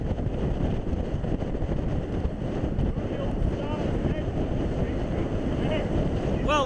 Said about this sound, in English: It was windy, fast, crosswinds.